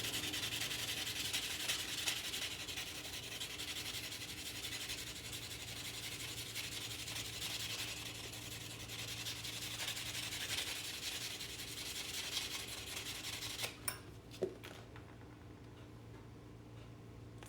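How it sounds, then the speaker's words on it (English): The cut edge of a silver Walking Liberty coin ring being sanded, a continuous close rubbing rasp with a steady rhythmic texture for most of the clip, then stopping and giving way to a few light ticks and clicks. "I'm going to go ahead and sand that edge,"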